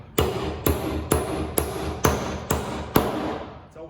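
Seven loud, steady hammer strikes driving nails into wood at an even rhythm about half a second apart, each a close, sharp knock with a short ringing tail.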